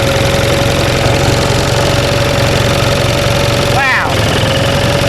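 A 1945 Onan generator engine runs steadily with a loud, even mechanical drone and a constant hum, briefly interrupted near the end by a short sweeping disturbance.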